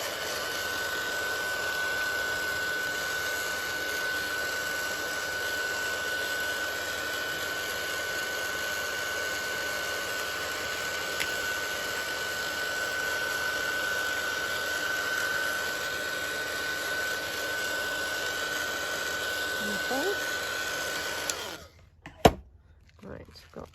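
A handheld dryer drying paint on a book page blows as a steady, loud whirring hum with a constant whine, running nonstop before cutting off abruptly near the end, followed by a few faint knocks.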